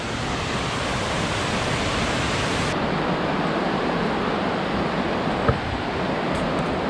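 Meadow Run rushes through a gorge at Ohiopyle, a steady, loud, broadband roar of tumbling water that continues without a break and with no voices.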